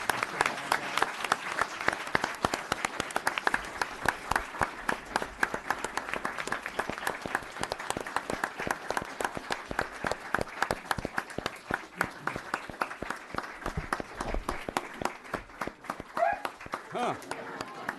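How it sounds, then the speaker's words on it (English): A crowd at a town board meeting applauds loudly and continuously, sharp claps blending into a sustained roar that never lets up. "can I get a nice round of applause for Sergeant Tom Byer?"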